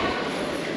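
Broad rumbling ambience inside Hankou railway station in Wuhan, China, with trains running, a steady dense wash of rail and station noise and no clear speech, held at an even level throughout.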